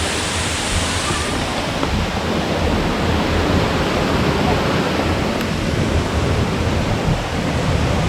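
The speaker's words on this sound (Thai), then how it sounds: "นี่คือน้ำตกตัดขามนะครับ" Tat Kham Waterfall in Ban Phaeng, Nakhon Phanom, Thailand: a loud, unbroken roar of rushing water, a dense steady wash of noise that stays constant throughout.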